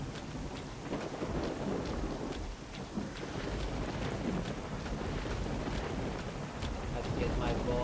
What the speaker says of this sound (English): the thunder is really loud